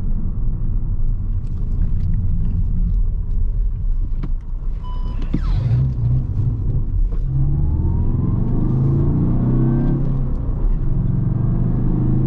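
A Skoda Octavia RS with a 2.0 TDI diesel engine accelerating on the road, with a steady low rumble from the cabin that rises slightly in pitch. No one speaks.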